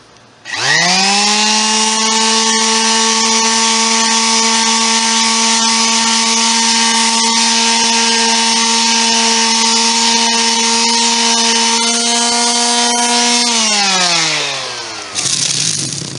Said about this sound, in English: But I'm going to start sanding and see how it goes.